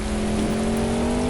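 Rain falling as a dense, steady wash of noise heard from inside a moving car, with a constant low engine hum underneath and no voices.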